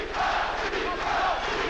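A boxing arena crowd in France chants for Hacine Cherifi during a WBC middleweight title fight. The loud, continuous rhythmic chant fills the hall, with no commentary over it.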